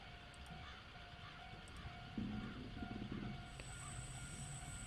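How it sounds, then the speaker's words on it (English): Deep groaning curve friction from a train rounding a bend in a train simulator, a low rumbling grind under steady rolling rail noise that swells midway and continues to the end. "That deep groaning is the curve friction."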